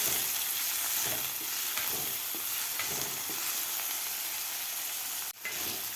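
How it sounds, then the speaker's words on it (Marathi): Chopped tomato and onion frying together in a pan, a continuous close sizzle with soft stirring scrapes and one brief clatter near the end. "टोमॅटोसुद्धा आपल्याला व्यवस्थित एक ते दोन मिनिट आपल्याला व्यवस्थित परतून घ्यायचं आहे कांद्याबरोबर"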